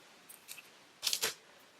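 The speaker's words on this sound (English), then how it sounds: "So I've just cut a bit of nylon thread" Scissors snip through nylon upholstery thread up close, with two faint small clicks followed by a sharper double snip, quiet and isolated with no talking.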